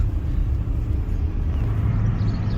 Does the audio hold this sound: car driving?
yes